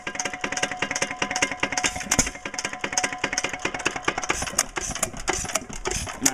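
An antique water-cooled hit-and-miss engine running, giving a quiet, steady mechanical clatter of rapid ticks and taps with faint irregular firing, heard close up without speech.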